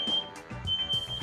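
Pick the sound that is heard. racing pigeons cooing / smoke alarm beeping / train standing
smoke alarm beeping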